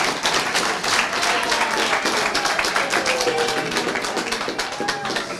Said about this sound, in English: And may we all clap for him.